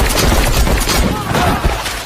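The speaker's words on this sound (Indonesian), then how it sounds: "Dia langsung lari, mengambil pistol dan menembaki kelima anak buah mafia itu." Pistol gunfire in an Indian action film, a dense burst of shots fired at five mafia henchmen, loud and close over a busy soundtrack with music and effects.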